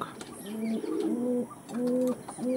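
Several pigeons coo in low, repeated throaty phrases, close by and moderately loud, with soft background rustle between calls.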